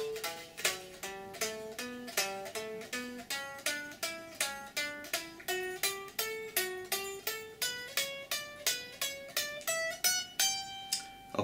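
An electric guitar plays a shred lick built from a repeating six-note scale pattern at a slowed tempo, with evenly spaced picked notes climbing steadily in pitch, clean and alone.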